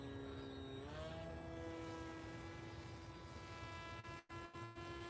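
A new model airplane glides in to land, its steady motor drone holding a constant tone that dips briefly at the end, heard close and alone without talk.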